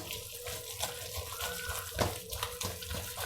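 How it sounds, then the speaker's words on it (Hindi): Water pours into noodle pakora batter of Maggi noodles, a steady liquid splash and trickle running through the short stretch with a brief louder slosh near the middle, close and fairly quiet. "अब इसमें थोड़ा सा पानी हम और डालते हैं और इसे अच्छी तरह से करते हैं मिक्स।"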